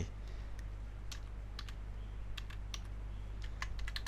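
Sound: typing an app name on a computer keyboard

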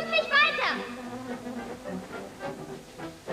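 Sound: cartoon bees buzzing

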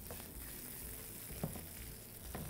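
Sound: vermicelli being toasted in butter in a pan

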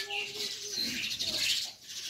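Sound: white Javan pied starling (jalak suren) calling

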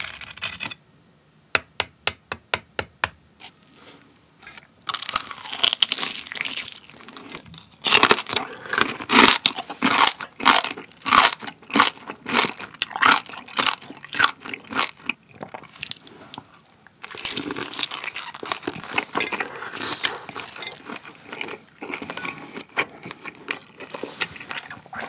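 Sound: biting and chewing crispy pork belly

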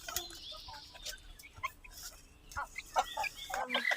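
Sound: Rhode Island Red chicks

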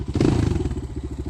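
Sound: Kovi 250 motorcycle with 172 engine

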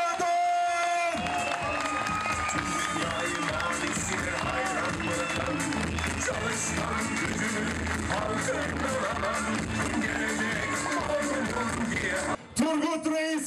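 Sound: crowd applauding at election office opening

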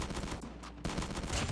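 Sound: shotgun firing a long shot in video game Call of Duty Mobile

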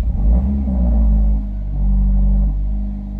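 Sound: car engine cold start

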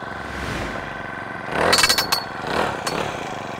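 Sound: Titan PGD2875 gas-powered fence post driver running

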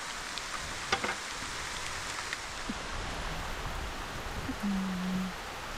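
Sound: rain falling

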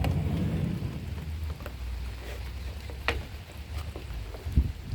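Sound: rain falling

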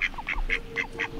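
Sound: ducks quacking and honking in England

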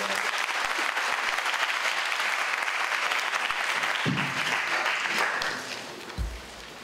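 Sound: audience applause at a student council general assembly

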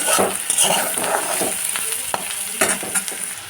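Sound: vegetables and peanuts being stir-fried in a pan

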